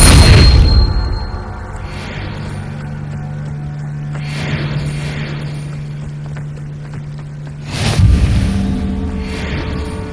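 An Incendio fire spell cast in Hogwarts Legacy, a booming burst at the start and another near the end, with a low steady hum between them.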